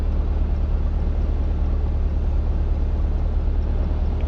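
Stock exhaust of a 2024 Chevrolet Corvette C8 with the engine running, a steady deep idle rumble held at an even level with no revs or pauses.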